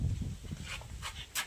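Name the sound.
dog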